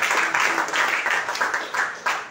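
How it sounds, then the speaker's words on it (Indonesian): A church congregation applauds during an Easter service, dense crowd clapping that swells and fades in waves, fairly loud and close, with a faint voice underneath. "Tepuk tangan yang mulia buat Tuhan Yesus."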